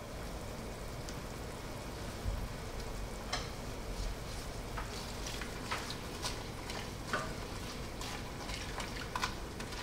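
Cabbage and snow peas being stirred as they fry for shrimp pancit bihon, a faint steady sizzle like light rain with occasional soft scrapes and clicks of the utensil, nobody speaking.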